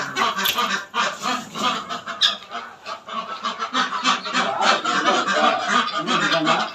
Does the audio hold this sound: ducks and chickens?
yes